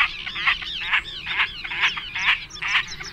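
Birds squabble in a crowded nesting colony, giving about seven harsh, honking calls in quick, irregular succession, close and fairly loud over a soft background.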